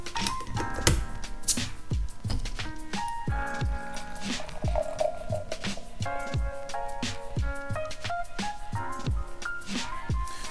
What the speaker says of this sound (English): So let's crack it open then.